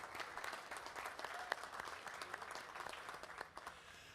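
Audience applause in a hall for county commissioners and staff at an airport jobs announcement, a sustained wash of many hands clapping at moderate distance, with no speech over it.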